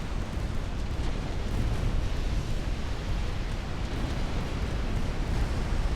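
Continuous roaring rumble of chain-reaction flash fire explosions aboard warships in the naval battle game Ultimate Admiral: Dreadnoughts, dense and steady with low booming bursts blending together throughout.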